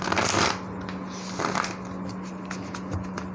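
Tarot cards are shuffled close up, a quick riffling burst at the start followed by lighter flicks and taps of cards being handled, with no talk.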